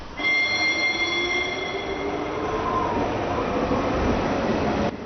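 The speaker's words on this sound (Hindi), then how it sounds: "जिंगा दूसरी ट्रेन में चढ़ गया है" A cartoon train rolls along steadily, a continuous rumbling clatter with high squealing wheel tones running across the whole stretch, loud and close with no voices over it.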